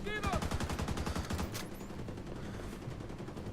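Video game gunfire crackles in rapid bursts of close, loud shots during the first half, then settles into quieter mechanical clatter.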